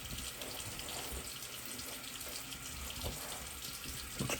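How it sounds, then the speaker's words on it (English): A water tap runs into a sink while a man rinses his face after a straight-razor shave, giving a steady close splash and hiss with a few louder splashes near the end. "I'm gonna go ahead and rinse my face a little bit"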